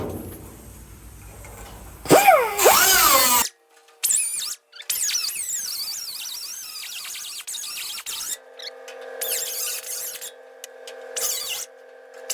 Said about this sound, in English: salvage this piece for Scott, I'm gonna come in here and just trim along this edge here to get this whole section out.